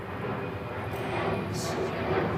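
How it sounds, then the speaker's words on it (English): An EasyJet airliner passes overhead as a steady, broad, distant engine rumble that swells slightly toward the end. "Yeah, that's an airplane. EasyJet, rare."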